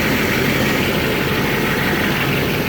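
A stock pickup truck engine with its factory catalytic converter idles steadily and fairly loud, a continuous low rumble with no talk over it.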